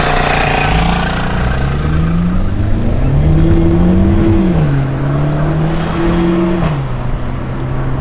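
An Alfa Romeo car engine revs up and down in several rising and falling sweeps, loud and close, with faint crackling exhaust pops between the revs and no voices.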